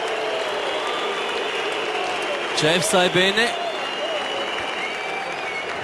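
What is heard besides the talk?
crowd applauding at FC St. Gallen cup presentation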